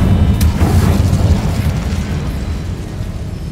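A fire spell cast in Hogwarts Legacy erupts in a loud, roaring burst of flame, a sustained rumbling whoosh that slowly fades over a few seconds, with no speech.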